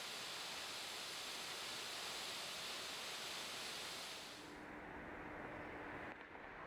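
Steady broadband rush of water from a small cascade above a frozen waterfall at Clifty Falls State Park, Indiana, continuous and fairly close, thinning abruptly near the end to a quieter, duller flow.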